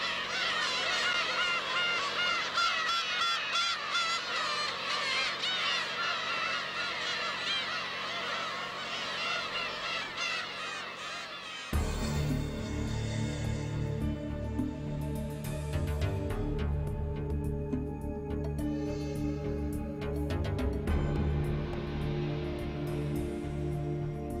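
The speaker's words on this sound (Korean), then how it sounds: "환경부에서 가장 아름다운 소리로 선정된 독도의 괭이 갈매기 소리." A crowd of black-tailed gulls calls on Dokdo island, with dense overlapping cries for the first half, then gives way to lower, different background sound.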